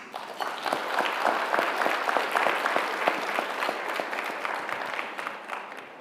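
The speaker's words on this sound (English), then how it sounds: "Let's give a big round of applause to all of tonight's honorees" Sustained audience applause at an awards ceremony for honorees, many hands clapping steadily and densely at an even level for the whole stretch, with no speech over it.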